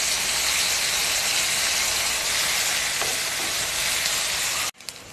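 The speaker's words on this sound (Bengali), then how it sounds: "পেঁয়াজগুলো ভাজা ভাজা হয়ে এসছে" Chopped onion with garlic and ginger paste fries in hot oil for a chicken curry, giving a loud, steady hiss and crackle that cuts off abruptly near the end.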